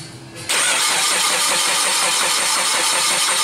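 A 2010 Suzuki SX4 engine cranks without starting, a steady, loud, continuous starter whir and churning after a brief quiet lead-in, lasting about three seconds with no voices.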